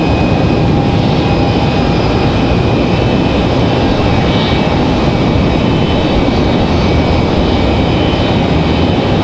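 A Delta airliner's jet engines roar at full power on takeoff at Raleigh-Durham International Airport, as a steady, loud, broadband rumble with a faint high whine running through the whole stretch and no voices.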